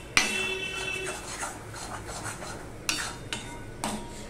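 In a hot kadai, a spoon scrapes and clinks as bottle gourd leaf paste is mixed with mustard oil, giving a few sharp metallic taps among softer rubbing sounds.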